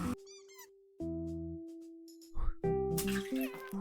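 A cat in a video game gives short meows over steady tonal game music, with watery splashing noises mixed in.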